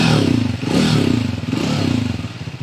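Triumph Speed 400 motorcycle engine thumping steadily at close range, a low pulsing beat with some mechanical clatter, heard in traffic without speech.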